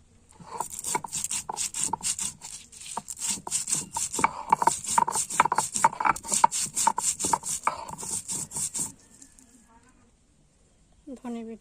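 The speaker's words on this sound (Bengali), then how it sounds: "এবার ধনে বেটে নেব" Coriander ground into paste on a grinding stone, a rapid rhythmic scraping and rubbing of stone on stone that continues for several seconds, then stops, followed by a brief bit of talk.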